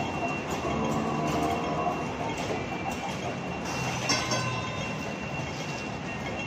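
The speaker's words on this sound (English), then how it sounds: "Yan po yung tram dito." A tram rumbles steadily along its rails with a constant low mechanical drone and faint wheel noise, moderately close, with no voices.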